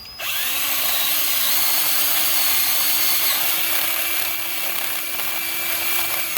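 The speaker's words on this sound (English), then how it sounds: "you want to drill them at a 45-degree angle up into this center hole" A power drill bores into wood at a 45-degree angle while a carpenter bee trap is built, one steady loud whine running unbroken for about six seconds, close and alone with no talk.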